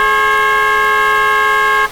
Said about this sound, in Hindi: हॉर्न बजा कर देखता हूँ।